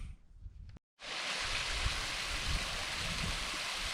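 A waterfall and stream rushing on a Scottish hillside, a steady broadband roar that cuts in after a brief silent gap and holds at an even, moderately loud level.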